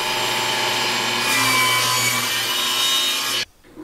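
Lumber being ripped with a saw, cutting 2x4s lengthwise into strips for an outdoor workbench top; a loud, steady buzzing cut runs for about three and a half seconds, then stops abruptly.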